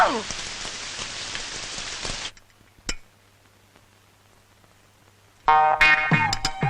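Rain falls densely for about two seconds, then stops abruptly into near silence with a single sharp tap before loud, clattering rain resumes.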